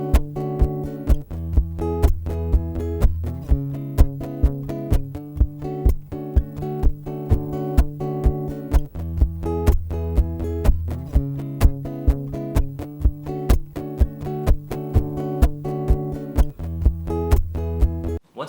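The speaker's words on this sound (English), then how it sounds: "The next thing is to fatten up the song with a little bit of snare effect." Muted guitar strings are chucked in a steady rhythm as a snare-like percussive hit, layered over a looping guitar pattern in a song arrangement, with a sharp, even beat and no voices.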